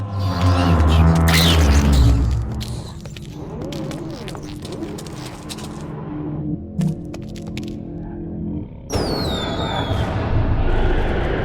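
Fireworks burst in the video game Shadows of the Damned, loud sharp cracks and booms with crackling tails and whistling streaks, one cluster early and another near the end, separated by quieter rumbling ambience.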